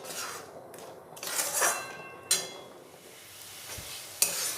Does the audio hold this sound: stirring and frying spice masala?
yes